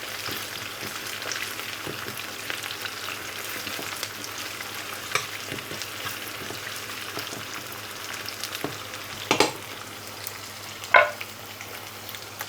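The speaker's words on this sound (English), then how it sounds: "I'm just going to gently fry off these onions." Onions frying gently in a pan give a soft, steady sizzle that holds through the whole stretch, with a few light clinks and stirring scrapes near the end.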